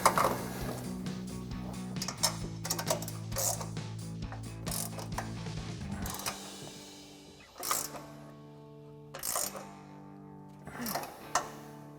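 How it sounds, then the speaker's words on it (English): A 17mm ratcheting wrench tightens the strut tower nuts during a front strut spacer leveling kit install on a 2004-2023 Ford F-150, giving close mechanical ratchet clicks in bursts with pauses and sharper metallic clanks near the end. "take a 17mm ratcheting wrench to tighten down our nuts"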